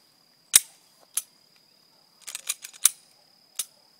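Sharp, crisp Glock 19 pistol shots at a shooting range, a single report, another, then a fast cluster of several and a last lone shot, all close and clear over near silence.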